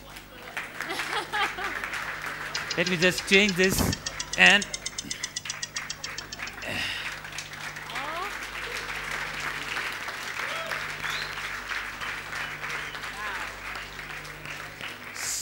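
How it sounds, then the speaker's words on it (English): Audience applause fills the hall at the Micromax Canvas 4 smartphone launch event: steady, dense clapping that swells and then holds level while a presenter talks over it. "The more you clap, the price is going to change."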